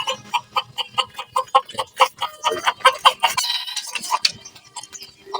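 A jungle fowl rooster clucks in a rapid series of loud, close, repeated calls, ending with a brief crowing burst.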